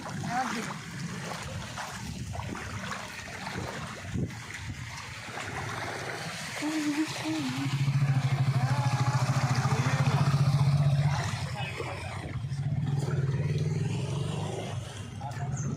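Vehicles splashing through floodwater on a street after a heavy rainstorm, a low engine drone and rushing water swelling as they pass close by over steady background wash.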